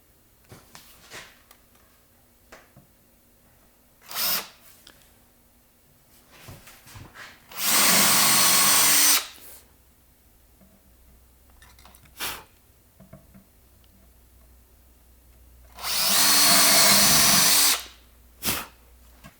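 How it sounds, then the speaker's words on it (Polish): A power drill bores 5 mm holes, 5 mm deep, into a cabinet carcass for a Blum AVENTOS HK-S lift fitting. It gives two loud, close bursts of whirring with soft handling noises in between. "Wiercimy."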